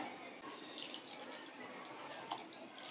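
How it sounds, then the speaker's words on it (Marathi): Mint leaves are rinsed in water in a deep bowl, giving a steady close-up swishing and splashing with a few small drips throughout, without any talk. "आपण एक खोलकट भांडा घेतलं आहे त्याच्यामध्ये पुदिना घालूया पुदिना धुवून घ्यायचा आहे आपल्याला"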